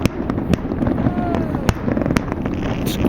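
Canada Day fireworks over Halifax in 2009, a series of sharp bangs and crackles at irregular intervals with a whistling rise, heard from a distance with wind rumble and crowd chatter throughout.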